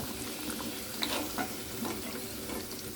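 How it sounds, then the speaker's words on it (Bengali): Potato pieces frying in oil with salt and turmeric in a pan, a continuous close sizzle with occasional stirring clatter and small pops, steady and moderately loud. "আলুটা ভাজা হয়ে যাক, তারপরে পেঁয়াজটা ভেজে এটার মধ্যে দেবো"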